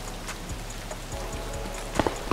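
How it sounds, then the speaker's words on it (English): Rain falling in the video game Escape from Tarkov, heard with a helmet on: a steady patter of raindrops on surfaces with scattered soft ticks and a few sharper close drips near the end. "At least this helmet prevents some of the rain noise."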